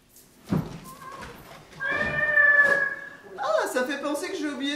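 A domestic cat meows a few times in short, clear calls, the second one long and drawn out, heard close with faint background noise between them.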